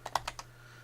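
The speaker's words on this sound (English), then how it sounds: "we can type in the keyword that we actually want here" Four quick, light keystrokes tapped on a computer keyboard in close succession while typing a keyword, followed by quiet room hum.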